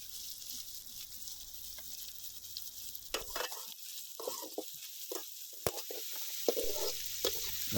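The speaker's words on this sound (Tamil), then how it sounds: "கொஞ்சமாக உப்பு சேர்த்து நல்லா வதக்கி விட்டுக்கோங்க" Onions and tomatoes with a little salt are stirred and sautéed in a pan for a spicy Chettinad chicken gravy, making a steady soft sizzle with scraping stirs and faint clinks, fairly quiet and with no voice.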